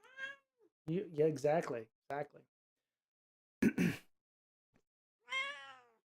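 Mama Kitty, a white cat named Snowball, gives a few clear meows between stretches of nearby human speech, with the last meow drawn out and standing alone.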